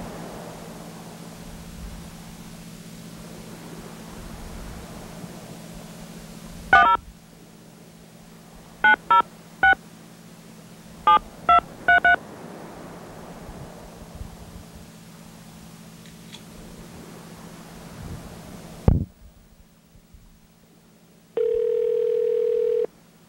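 A telephone number is punched in as a series of DTMF tone beeps in uneven groups over a steady dial tone, followed after a pause by a single ringback tone.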